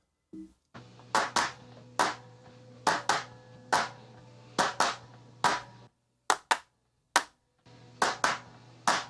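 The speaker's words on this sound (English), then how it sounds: "this is 8 clap tracks and it still sounds so wimpy" Layered overdubbed hand claps, eight tracks stacked together in a mix, hit in crisp groups of two or three with short gaps between, each burst sharp and dry over a faint low hum.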